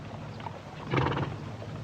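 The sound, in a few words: horses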